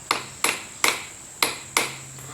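Five light metallic taps on a small metal workpiece held in a vise, aligning a line with a washer, each a crisp ringing ping at an uneven rhythm, close and alone.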